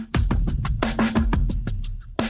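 Resampled drum hits run through a low cut, tremolo and phaser, several punchy strikes in a loose rhythm with swirling, pulsing decays, loud and alone.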